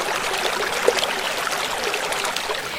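The Mahananda river flows fast past Kamruddin village in Katihar, cutting into its banks as the water rises, a steady rushing wash with a faint splash, heard alone at moderate level.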